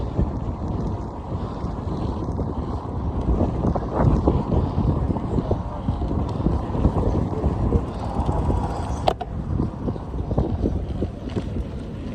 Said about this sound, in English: This is the wind, the direction the wind is going.